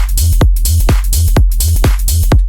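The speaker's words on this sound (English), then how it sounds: "So with the drums and the sidechain, it sounds like this" Electronic drum loop with a pumping, sidechained feel: punchy kicks recur steadily while sustained synth and hi-hat layers duck and swell between each beat, loud and close.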